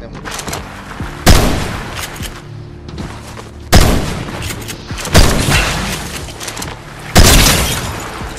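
Shotgun blasts in a first-person shooter game, four loud booming shots spaced a couple of seconds apart, each with a sharp attack and a rumbling decay, over faint background game noise.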